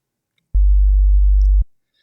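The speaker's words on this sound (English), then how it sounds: "And now I have a nice bass tone." A synthesized sine wave bass tone from the Sytrus synth, one sustained deep pure hum lasting about a second with clicky onset and cutoff, loud and alone.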